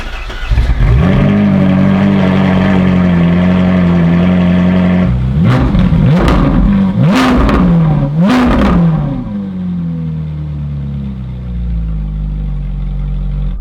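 Ferrari 458 with an S-Line X-Pipe straight-pipe exhaust and no valves, idling loud and close, then blipped in three or four sharp revs before settling back to a lower idle.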